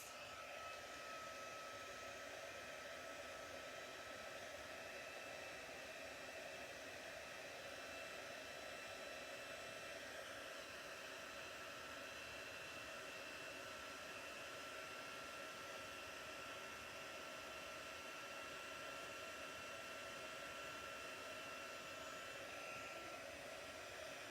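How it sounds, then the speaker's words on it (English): A craft heat tool blows steadily at close range for the whole stretch, a constant loud whooshing hiss like a hair dryer, with no talk over it. "get out my heat tool. Plug your ears."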